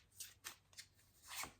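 A deck of tarot cards is shuffled by hand close up and quietly. Several short papery riffles come in irregular bursts, with one longer riffle near the end.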